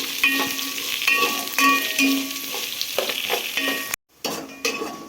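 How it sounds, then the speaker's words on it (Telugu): Two onions and green chillies frying in a pan for egg biryani, a lively sizzle punctuated by metallic spatula clinks and scrapes against the pan, with a brief break in the sound near the end. "గోల్డెన్ కలర్ వచ్చేదాకా వేయించుకోవాలండి"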